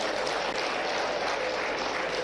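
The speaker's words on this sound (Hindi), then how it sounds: "उनका जोरदार ताली बजाकर इसके लिए स्वागत करें" Audience applause at a public gathering, a dense, steady wash of many hands clapping together, loud and continuous with no individual claps standing out.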